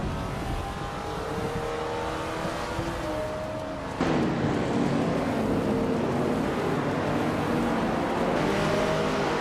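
A 1973 Porsche 911 RS race car engine drones loudly and steadily with shifting pitch, running under a continuous roar of track noise with a sharp change in tone midway as it passes or shifts.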